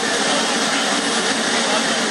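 An F-16 fighter jet's turbine engine running on the ground, a loud, unbroken roar with a broad hiss that holds steady throughout.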